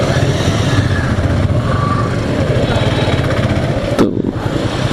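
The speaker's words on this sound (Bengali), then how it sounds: "এই বাইকটা আমার কাছে মনে হচ্ছে আমার বাইকের চাইতেও স্মুথ" A motorcycle on a ride sends a continuous loud engine drone mixed with wind rush, steady throughout with a brief disturbance near the end.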